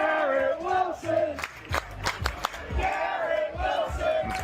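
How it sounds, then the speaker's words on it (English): Stadium crowd at an NFL preseason football game between the New York Jets and Giants roaring and cheering after a long pass, with a loud, sustained wash of voices, some rising yells and chant-like tones, and scattered shouts throughout. "The crowd went nuts for that."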